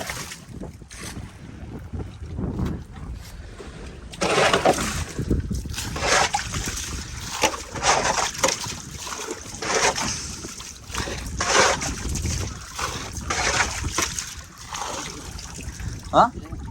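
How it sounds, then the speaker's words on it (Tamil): Water is scooped out of a fishing boat in Sri Lanka with a hand bailer and poured overboard, making repeated splashes and trickles amid wind noise and the sound of the boat, with voices faintly present. "தண்ணியை இந்த பட்டையால் அள்ளி இப்படி ஊற்றணும்."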